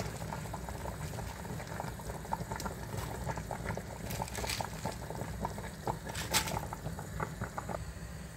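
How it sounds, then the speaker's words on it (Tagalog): Bulalo beef soup with corn, carrots and other vegetables bubbling in a pot, a steady close simmer of popping bubbles and liquid patter. "Pakuluin lang natin yan"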